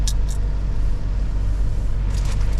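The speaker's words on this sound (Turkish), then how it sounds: "Bedford kamyon şu" A Bedford truck engine rumbles steadily with deep low-end drone, heard from inside or close by on the road, with no talk over it.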